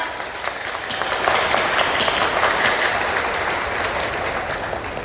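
Thunderous audience applause at a formal lecture event honoring a distinguished guest, a steady, dense roar of many hands clapping that builds slightly and sustains throughout.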